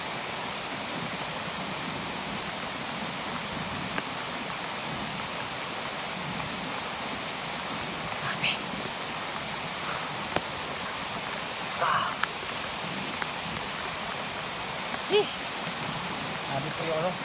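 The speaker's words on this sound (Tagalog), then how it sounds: "Ulan pa yan." Rain falls outdoors in a steady, even hiss that runs unbroken throughout, with a few faint, brief knocks and splashes rising above the wash.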